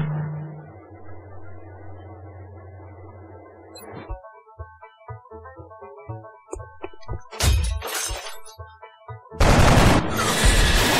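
Gunfire and explosive crashes from the X-COM video game: a low droning hum gives way to scattered sharp shots, a few bursts mid-clip, then a loud sustained blast of noise at the end, no talking.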